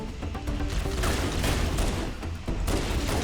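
Dense bursts of grenade explosions and gunfire in Halo: Combat Evolved Anniversary Firefight, loud and overlapping, with a couple of heavier booms in quick succession.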